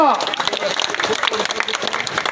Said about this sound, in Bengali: আমরা সকলে একটি করতালি দিয়ে শুভর জন্য।